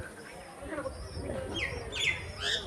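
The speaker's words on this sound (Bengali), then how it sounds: "জোড়া শালিক" A pair of common mynas give short, chirping calls outdoors, several bright notes in the latter half, moderately near over background noise with faint voices.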